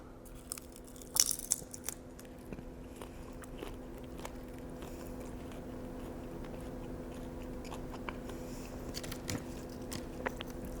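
Close, quiet eating of cooked spicy shrimp, with soft bites and chewing crunches scattered over a low steady hum and no talking.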